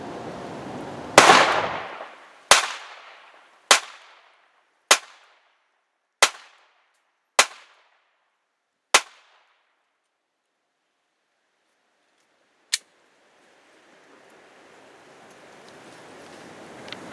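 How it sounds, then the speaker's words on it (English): Taurus 709 Slim 9mm pistol fired at 17 yards: seven sharp evenly spaced shots, then one more after a pause, loud and close, ending in faint outdoor wind noise. "Right now we're shooting at 17 yards,"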